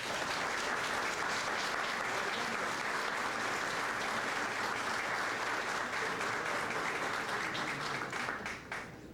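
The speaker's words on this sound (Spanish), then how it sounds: "Pido para todos ellos un aplauso" An audience at a formal commemorative ceremony breaks into sustained, dense applause, steady and full for several seconds before tapering off at the end.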